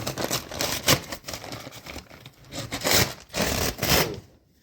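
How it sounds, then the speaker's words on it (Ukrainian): A sack of Klinosan disinfectant powder being opened in a barn, with close rustling, scraping and crinkling of the bag in uneven bursts that stop at the end. "Відкриваємо мішок від компанії ЗВК Кліносан"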